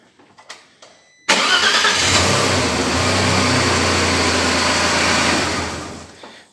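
After a second of faint clicks, an Audi A6 2.4 V6 engine with a repaired starter suddenly catches and settles into a steady close idle for several seconds before fading.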